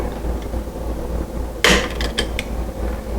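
A screw is tightened down on a light switch terminal to clamp the wire, giving a short burst of close, dry mechanical clicks and creaks over a steady low hum.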